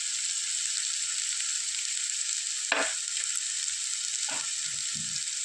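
Fish roast masala sizzles steadily in a pan in a Kerala-style kitchen, a constant bright frying hiss with a couple of soft spoon scrapes as it is stirred, and no voices.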